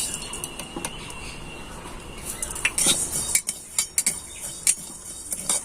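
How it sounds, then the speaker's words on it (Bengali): Whole cumin, coriander and black pepper being dry-roasted and stirred in a pan, with a spoon clinking and scraping against the metal in quick irregular strokes over a faint crackle of seeds. "তাই এবার আমি মশলাটাকে ভেজে নিচ্ছি"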